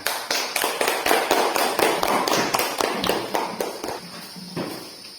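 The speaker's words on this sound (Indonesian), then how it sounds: "Mari kita sambut penampilan dari kelompok 2 dengan tepuk tangan" A classroom of students gives a teacher and a presenting group brisk, rhythmic unison clapping, sharp regular claps close by that keep a steady beat and then slow and thin out toward the end.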